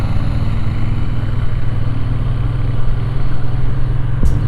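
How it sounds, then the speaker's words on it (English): A Royal Enfield GT 650 motorcycle with stock exhaust runs steadily with a deep, even exhaust rumble, loud and close, holding a constant throttle throughout. "Oh, how soothing that thing sounds, dude. The stock exhaust."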